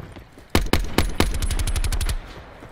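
Automatic gunfire in a shooter video game: a few separate shots, then a rapid, even burst of close, loud rounds that stops abruptly, with no voices.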